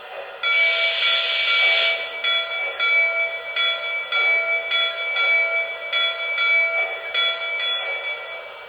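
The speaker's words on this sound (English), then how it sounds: "Here's the bell." A bright electronic bell on a Lionel Polar Express toy train rings repeatedly in a steady rhythm, clanging about twice a second over a constant hiss, loud and near.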